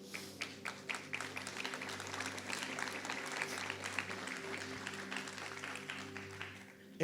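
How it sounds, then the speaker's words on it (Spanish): Steady clapping from a church congregation, sustained for several seconds over a low background hum, with scattered individual claps standing out. "Dame un aplauso a Pablo ahí."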